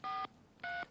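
Two short bursts of telephone keypad dialing tones, each a steady dual-pitch beep separated by a brief pause, clear and close with no speech.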